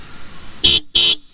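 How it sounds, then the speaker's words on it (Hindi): Two short, loud blasts from the dual horn of a 2021 Yamaha R15 V3 motorcycle, sharp and bright, sounded back to back and up close with nothing else around them. "एक बार सुनते हैं गाड़ी का हॉर्न कैसा है."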